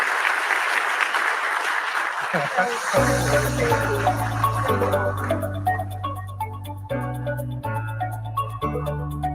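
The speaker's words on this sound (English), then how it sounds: "Round of applause, Mayor Patterson." An audience at a forum applauds Mayor Patterson for about three seconds, then the clapping thins and fades as loud stage music with a deep, steady bass line starts and carries on.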